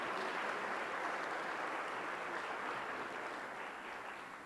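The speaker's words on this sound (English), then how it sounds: "Another round of applause for Linville," A conference audience gives steady, distant applause, a soft even wash of clapping for about four seconds that tapers slightly at the end, with no talk over it.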